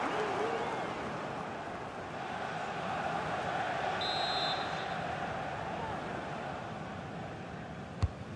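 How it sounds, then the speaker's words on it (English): A stadium crowd roars steadily through a Man City versus Tottenham Hotspur match in FC 25, a broad, continuous wash of cheering with a faint buzz midway and a sharp knock near the end. "The crowd are certainly playing their part."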